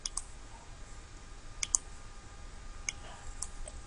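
A handful of soft, sharp mouse clicks land at irregular intervals while selecting an option in statistics software, faint and close against a quiet room.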